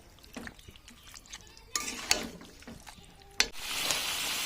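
A spoon scraping and stirring meat with spices, potatoes, salt and turmeric in a pan: sparse clinks and scrapes at first, then louder stirring strokes ending in a steady sizzle.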